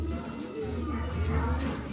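A racing pigeon from Burias Island coos softly and low, close by, alongside faint background sounds.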